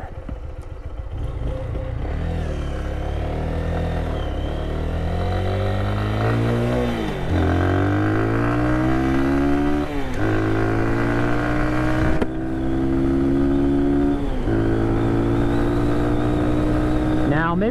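A 2022 Lifan KPR 200 motorcycle being ridden, its engine climbing repeatedly through the gears with clear drops at each shift. The engine is close and loud, with a voice speaking at times over it.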